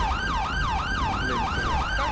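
A police car siren from the video game GTA 5 wails in a steady, repeating up-and-down sweep, loud and continuous with no voices over it.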